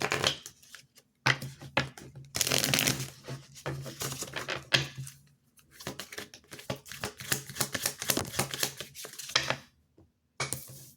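A deck of tarot cards being shuffled by hand, close crisp riffling and flicking bursts in uneven runs separated by short pauses.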